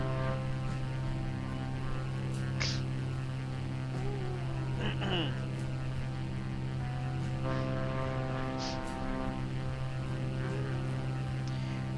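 Cirrus SR22T in flight at night, a steady droning propeller engine and cabin hum heard from inside, continuous and loud, with faint brief tones over it.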